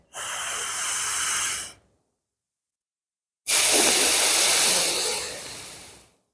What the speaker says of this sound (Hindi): दाहिने नाक की छिद्रा से सांस को लंबा भरें